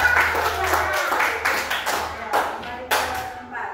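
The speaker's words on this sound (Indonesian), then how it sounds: "tepuk tangan sekali lagi untuk kelompok 2" A classroom group claps for the second student team after its presentation, a burst of uneven hand claps that thins into scattered claps and taps, with a low hum underneath.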